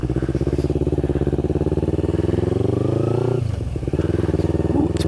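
A street-illegal off-road motorbike pulls away along a road toward a school parking lot, its engine droning loud and close with rising revs, a brief dip and throttle change, then steady running.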